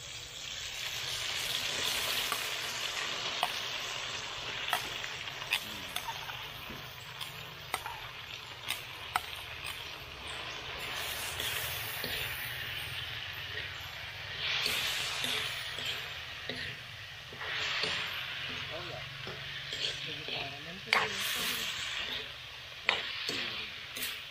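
Mole crickets fry in a pan with a soft, continuous crackling sizzle, broken by occasional light clinks of a utensil, faint overall.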